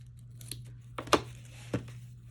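Scissors snipping through a paper craft tag, a few quiet, crisp cuts and crinkles spread over two seconds against a low steady hum.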